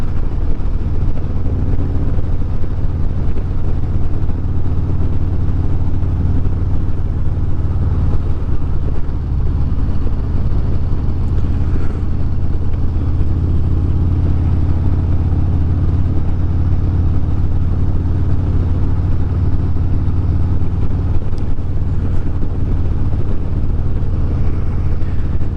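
A Harley-Davidson motorcycle on a group road ride, its engine droning steadily and loud throughout with a low, constant rumble and wind rush, no talk over it.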